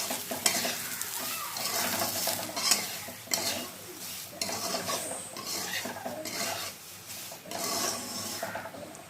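Semolina poured over fried vegetables in a pan is stirred with a spoon, giving repeated scraping and rubbing strokes against the metal over a soft, continuous sizzle, close and fairly quiet with no talking.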